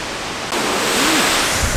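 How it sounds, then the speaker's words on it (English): A waterfall roars as a steady, dense rush of broadband noise outdoors, growing slightly louder after the first half second and continuing unbroken. "We are finally close to the waterfall."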